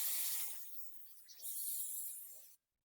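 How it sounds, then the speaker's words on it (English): Brake cleaner sprays in a loud, steady hiss onto cleaned wheel bearings during a wheel seal job on a Ford E-250/E-350 or F-series truck, running nearly continuously for about two and a half seconds before stopping abruptly. "So now we just spray some of brake cleaner to get all the residuals that are left behind"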